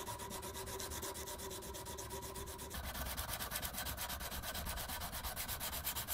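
Hand sanding of a Damascus steel chef's knife blade with sandpaper, a close, steady rasping rub; the strokes turn quick and rhythmic partway through.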